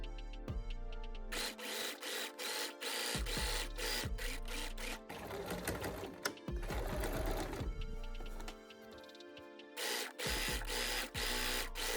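A sewing machine stitches the lower mark of a simple bag seam, with close, loud bursts of rapid mechanical needle rattling separated by brief pauses and clicks.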